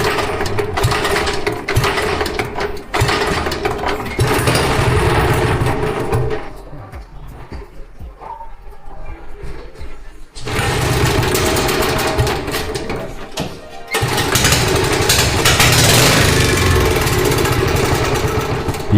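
Small drift kart engine with a clogged carburetor, running loud and rough with a harsh rattling buzz close by, dropping away for a few seconds partway through and then returning at full volume.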